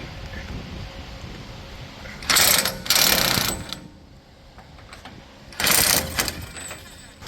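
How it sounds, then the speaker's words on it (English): A steering box nut being undone on a Jeep JK Wrangler, heard as three loud, harsh mechanical bursts of a tool working the nut, separated by short pauses over quiet background. "Now to undo the steering box nut."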